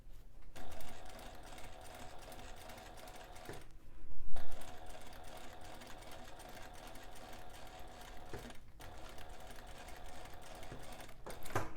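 Sewing machine stitching a zipper placket on an interior bag pocket, running in long steady buzzing bursts separated by short pauses, close and fairly quiet, with a soft knock between runs.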